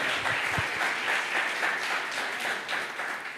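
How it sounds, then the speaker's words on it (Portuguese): Congregation applauding during a church sermon, a continuous wash of clapping from many hands at moderate distance, fairly soft and sustained. "Você pode aplaudir Jesus por isso?"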